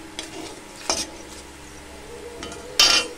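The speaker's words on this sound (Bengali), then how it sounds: "আর কটা তেজপাতা। এটা ভালো করে ভেজে নেব।" Bay leaves fry in hot oil as a tempering base for a Bengali yogurt rohu fish curry, giving a low steady sizzle. Sharp metal scrapes and clinks from stirring in the pan break through it at intervals.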